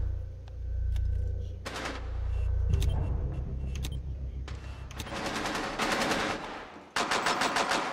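Gunfire rattles in Rainbow Six Siege on the Hereford map, with automatic bursts of rapid shots over a rumbling background. Several loud volleys toward the end come close together.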